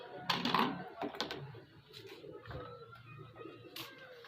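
Old Salaray Teddy pigeons coo softly nearby, a few low, rounded calls rising and falling over faint background rustling.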